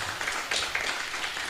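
Round of applause from a neurosurgery conference audience for a doctor, a faint, steady patter of many hands clapping with no break.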